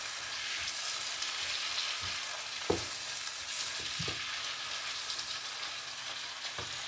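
Tinned mackerel and green peas sauté in a hot pan with a steady broadband sizzle, broken by a few soft knocks of stirring around the middle and end.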